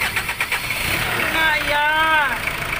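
The engine of a hard-starting Ford Ranger WL cranks on its starter in a rhythmic chugging that gives way to a rising whine, with a voice speaking over it.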